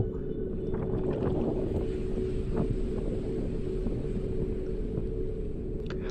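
A rowing boat moving on a river, a steady low watery rumble with faint irregular splashes and creaks, continuous and alone without voices.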